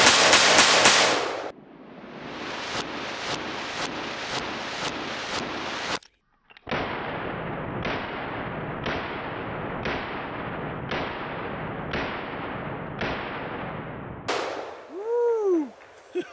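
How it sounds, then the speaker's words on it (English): Rapid strings of loud, sharp gunshots from a Taurus Raging Hunter revolver in .357 Magnum at an outdoor range, evenly spaced reports in quick bursts with a short pause between strings and brief ringing at the end. "Let's finish up with some rapid fire with each gun."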